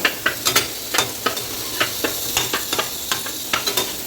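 Onion kondattam fries in hot oil, a steady close sizzle punctuated by regular sharp stirring clicks and scrapes of a utensil against the pan.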